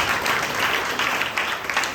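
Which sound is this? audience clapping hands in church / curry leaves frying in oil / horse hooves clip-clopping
audience clapping hands in church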